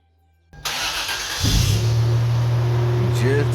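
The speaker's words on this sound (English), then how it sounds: "Just hear that beautiful engine." A 1999 Toyota Tacoma with a 3.4 engine cranks and catches after new spark plugs, then settles into a loud, steady idle with a strong low hum, heard close up.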